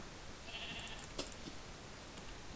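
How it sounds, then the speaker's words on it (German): A single synthetic Minecraft sheep bleat from a pink sheep rises briefly over a steady hissy background, short and moderately loud, with no talking. "das ist ein rosa Schaf"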